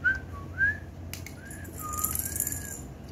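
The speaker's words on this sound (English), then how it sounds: "Should I record that whistle?" A person whistles a short melodic tune of several rising and falling notes, fairly close and clear, with light background room noise and no talking.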